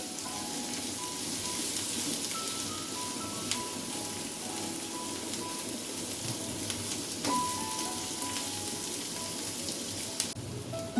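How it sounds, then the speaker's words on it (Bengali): Chopped onions fry in oil for an egg korma with a steady, even sizzle and crackle, and occasional stirring clinks come through faintly over the hiss. "পেঁয়াজ কুচিগুলোকে না খুব বেশি ভাজবো না, সাদা থাকতে থাকতেই নামিয়ে নেব।"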